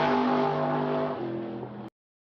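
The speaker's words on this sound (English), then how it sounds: "the sounds of these muscle cars" A muscle car engine roars loud and close, its deep droning pitch dropping slightly partway through as it moves off, then the sound cuts off abruptly to silence.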